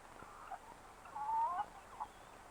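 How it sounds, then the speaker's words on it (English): Hens with newly hatched chicks, soft clucking and a few short high peeps over a quiet farmyard background, faint and close, no voices. "Here is the first baby chick."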